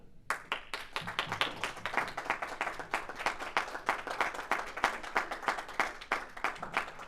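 Members of a Toastmasters club meeting at Oracle clap for a speaker taking the stage, a fairly small group producing sharp, rapid, close claps in a lively steady rhythm that carries on for several seconds.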